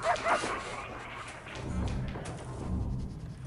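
Dogs from a dog trainer in the prison-management video game Prison Architect give short yips and barks amid busy game ambience, with a few whimpering sounds and a soft thud, all moderately faint.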